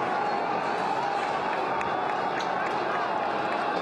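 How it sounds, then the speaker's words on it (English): A crowd cheering in Tahrir Square, a continuous roar of many voices heard from a distance, with no single voice standing out. "People are cheering. They're cheering as they retreat."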